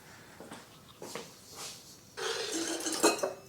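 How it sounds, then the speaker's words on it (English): A metal soup spoon clinks and scrapes against glass jars and cooking pots, scattered light knocks at first, then a busier stretch of clattering close by. "Let me get a soup spoon."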